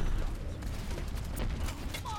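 Rapid gunfire from the shooter game Overwatch, a dense run of sharp shots rattling steadily through busy in-game noise for about two seconds.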